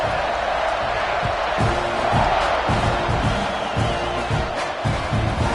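A loud, steady roar from a stadium crowd at kickoff in the college football video game CFB 26, with rising swells and scattered shouts and thuds underneath.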